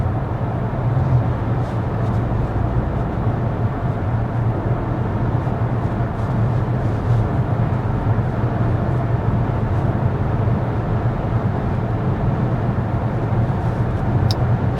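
Steady cabin noise inside a 2024 Dodge Hornet GT cruising at 55 mph with the fan on its lowest setting, a constant low road and engine rumble with broadband hiss and no speech.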